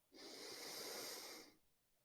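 One long, steady inhale through the nose during a calming breathing exercise for a child, a soft, airy rush lasting over a second, close and quiet with no talk.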